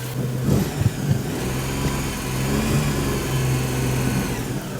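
An old barn-find car rolling, its engine running with a steady mid-range hum and roughness at close range, no talk over it.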